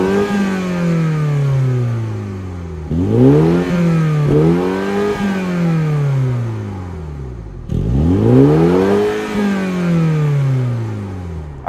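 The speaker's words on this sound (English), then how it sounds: "let's fire up this 2-liter 4-cylinder turbo engine and hear how she sounds" A 2024 Mini Cooper S with a 2-liter twin-power turbo four-cylinder engine revs loudly and close up, rising and falling in three sweeping surges with brief dips between, and no voices over it.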